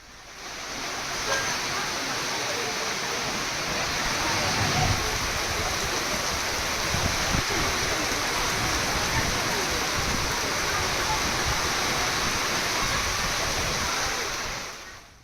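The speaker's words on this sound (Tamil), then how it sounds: "நாகை மாவட்டம் வேதாரண்யம் மற்றும் அதன் சுற்றுவட்டார பகுதிகளில் கனமழை பெய்தது" Heavy summer rain pours over Vedaranyam in Nagapattinam district, Tamil Nadu, as a dense, steady hiss that holds at an even loudness for about fifteen seconds, with no voices over it.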